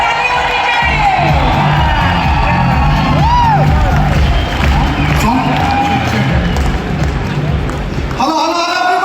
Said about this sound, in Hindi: नागेश पर जोरदार ताली होनी चाहिए।